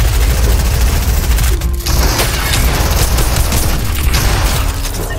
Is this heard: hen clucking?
no